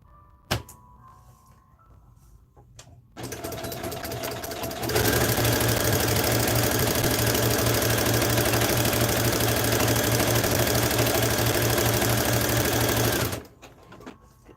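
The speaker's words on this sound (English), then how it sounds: "Get both sides sewn first, and then we'll do the ends." A sewing machine stitches the sides of a denim and flannel pinafore made from upcycled men's jeans, starting with a short burst and then running in one steady, loud, even hum for about eight seconds before stopping.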